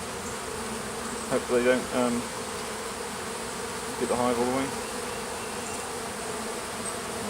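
Bees buzz steadily around a hive in a constant droning hum, with someone talking briefly over it twice.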